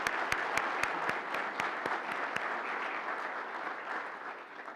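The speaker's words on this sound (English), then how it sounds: "please give him another nice round of applause" Audience applause after a university lecture: a few distinct sharp claps at first, then sustained, fairly soft clapping from a roomful of listeners.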